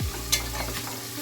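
Onions frying in ghee over a low flame for a vegetable pulao, a steady soft sizzle with a brief stir or scrape near the start, close and continuous.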